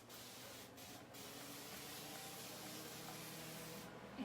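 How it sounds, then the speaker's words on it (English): A spray bottle mists water onto a painted door in a close, continuous hiss lasting several seconds, with brief dips and no speech. "And that sucker sprays."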